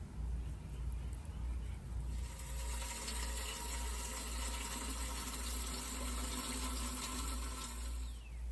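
A carrot seed bed topped with sifted peat moss is watered in a garden. After a brief pause, a faint, steady hiss of spraying water starts and carries on evenly, with no voices.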